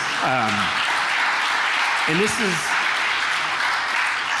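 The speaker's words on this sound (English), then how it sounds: "That's worth clapping for" Congregation clapping in a church gathering, a steady broad wash of applause running throughout the clip with a voice speaking briefly over it near the start and again midway.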